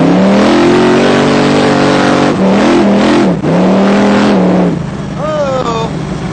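A 1964 Chevy Nova pro street race car engine revs hard and climbs in pitch through several gear changes, loud and close, easing off toward the end.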